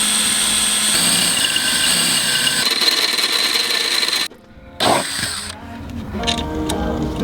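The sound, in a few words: drilling a hole with a 15/64 inch drill bit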